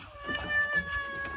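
A cat meows on a balcony, a short close cry standing alone against faint background hum.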